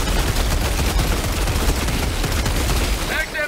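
Sustained automatic gunfire in Helldivers 2, a dense rapid burst pouring out loud and continuous until the magazine runs dry, with a brief mechanical click and shift at the very end.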